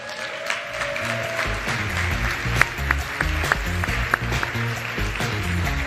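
Warm applause from a school-themed gathering as speakers walk out and take their seats, steady clapping with a few sharper claps standing out, while music plays underneath.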